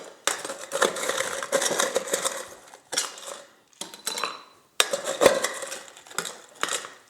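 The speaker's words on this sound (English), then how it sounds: "Let's fill this glass up with ice." Ice cubes clatter into a drinking glass while a mocktail is made, in several bursts of sharp, bright clinks and rattles separated by short pauses, close and clear with no talking.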